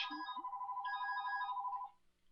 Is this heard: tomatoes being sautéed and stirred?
no